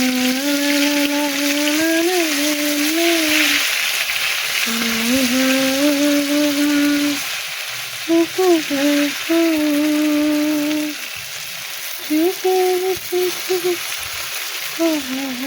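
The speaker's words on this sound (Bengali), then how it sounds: "এবার বেগুনগুলো ভাজতে দিয়ে দিই।" Eggplant slices frying in hot oil in a wok (kadai), a steady broadband sizzle running throughout beneath a continuous voice that talks over nearly the whole stretch.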